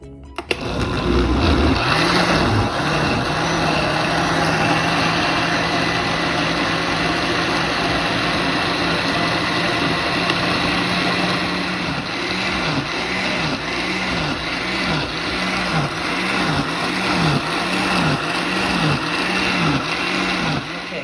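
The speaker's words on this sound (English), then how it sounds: "Now, put the lid on, and I will blend." A kitchen blender purees boiled chilies in their cooking liquid, giving a loud, continuous motor whir that holds steady, then settles into a rhythmic churning pulse as the mixture turns over.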